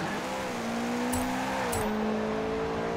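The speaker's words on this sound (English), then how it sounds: "I can hear the engine of the guy behind me again." A 2016 Subaru rally car engine in Forza Horizon 4 drones steadily with a rising and falling pitch as it shifts gear on dirt, loud and continuous, with two brief clicks.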